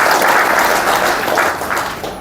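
Loud crowd applause at a gathering where names are being called out, a thick burst of clapping that holds strong and then gradually fades toward the end.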